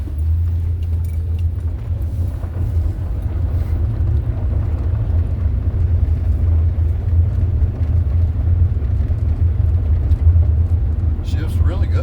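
A 1997 Ford F150 pickup drives along, its engine a deep steady low rumble with road noise inside the cab, loud and constant throughout, with a light rattle near the end.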